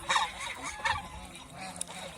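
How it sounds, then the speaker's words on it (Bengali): A white goose on a goose farm gives a few short, nasal honks close by, with a quieter call trailing after them. "এইখানে এই যে সাদা হাঁসটা দাঁড়ায় আছে"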